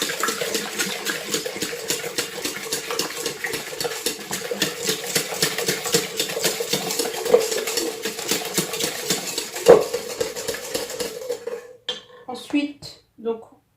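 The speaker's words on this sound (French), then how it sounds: "Donc on mélange bien au fouet." A whisk beats orange zest into a batter in a bowl with a steady, rapid metallic rhythm that runs for several seconds, then breaks off into a few scattered taps.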